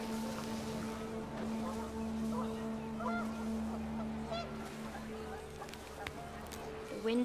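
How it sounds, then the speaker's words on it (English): Panicked geese honk repeatedly in What Remains of Edith Finch, faint cries scattered over a steady low drone, with a narrator speaking throughout. "panicked geese appeared and quickly went"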